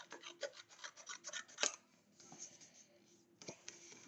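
Scissors snip through paper in a quick run of close, crisp cuts, then pause briefly before a few more snips resume.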